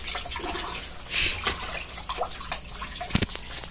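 Water runs and splashes in short bursts as eggplant is rinsed for a tuna eggplant torta, with faint clinks and drips, close by and fairly quiet, no talking.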